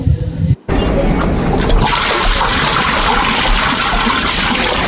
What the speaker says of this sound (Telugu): సో ఇప్పుడు ఇక్కడ మటన్ ఉడికిపోయింది ఇందులో వాటర్ వేస్తున్నాము